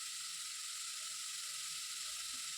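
Vegetables and ground masala frying in a pan for beetroot saagu, a steady, even hiss and sizzle held at low volume throughout, with no voices.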